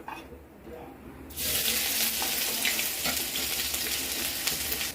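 Ginger paste hits hot oil with cumin seeds in a wok. A quiet pan hum bursts into a loud, steady hissing sizzle that carries on to the end, with light stirring clatter.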